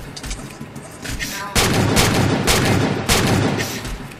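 Video game DMR rifle fire in a Minecraft Halo minigame, several loud, close sharp shots in quick bursts over a busy background of game sounds.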